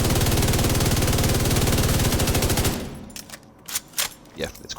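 Rapid automatic gunfire from a weapon in The Division 2 video game pours steadily into a boss for almost three seconds, loud and continuous, then cuts off, leaving a few scattered lighter impacts and clicks.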